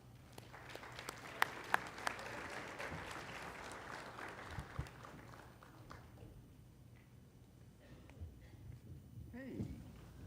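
An audience at an Indigenous leadership panel on carbon offsetting applauds to welcome the moderator and panelists, steady clapping with a few sharp claps that fades out after about six seconds, followed by faint room noise.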